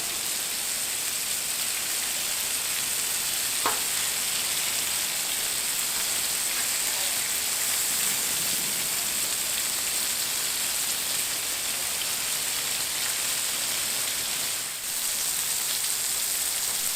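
Bacon-wrapped steak bites on a Blackstone griddle give a steady, dense, rain-like sizzle that holds evenly the whole time, close and loud, with only a faint tap or two and no talking.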